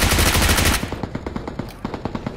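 Gunfire in the mobile battle-royale game BGMI (PUBG Mobile), opening with a dense sustained burst of automatic fire and then breaking into rapid, sharp single shots in an irregular rhythm, loud and up front with no talking.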